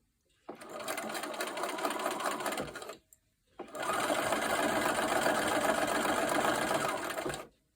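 A sewing machine stitches quilt pieces for a double sawtooth star block in two steady bursts of rapid mechanical whirring, the first about 2.5 seconds long and the second about four seconds, separated by a short pause.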